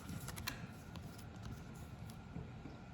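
A deck of indigo tarot-style cards is given a quick shuffle, soft riffling and flicking of cards with a few sharper snaps, faint and close, with no speech.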